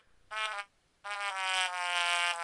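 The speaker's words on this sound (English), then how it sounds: "And you can make your voice like a trumpet," Nintendo DSi Sound trumpet voice effect turning a voice into a bright, brassy buzzing tone, one short blast followed by a longer sustained note, fairly quiet and alone.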